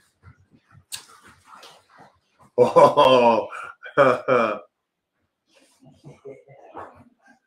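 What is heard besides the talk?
dog playing and barking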